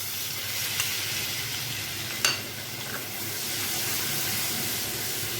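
Finely chopped onion frying in white oil with a little butter, a steady close sizzle throughout, broken by a couple of sharp scrapes of stirring.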